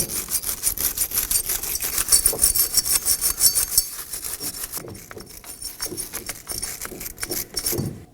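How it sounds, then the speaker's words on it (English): A wire brush scrubs corrosion from the mating surfaces of a Toyota Corolla axle shaft and steering knuckle in quick, harsh rasping strokes. The sound is close and loud, with a short pause midway before the scrubbing picks up again. "So take a wire brush and brush any corrosion off."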